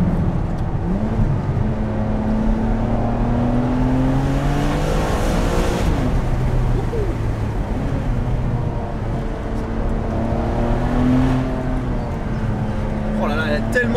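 A Ferrari 599 HGTE drives along a road, its engine giving a steady, rising and falling drone with throttle changes throughout, heard from inside the car while people talk over it.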